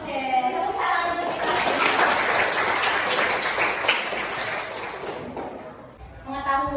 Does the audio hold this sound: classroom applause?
yes